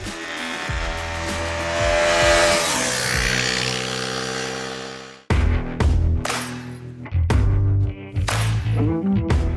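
A Hero Xpulse 210 motorcycle engine revs hard, rising to a loud sustained wail, dropping off, then snapping through several quick, sharp revs up close.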